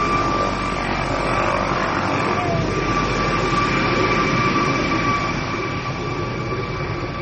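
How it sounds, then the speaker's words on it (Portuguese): A helicopter passes overhead with a loud, steady, broadband rotor and engine roar. The sound is sustained and close throughout, with no talking. "Eu vou dar uma paradinha só, passar esse helicóptero."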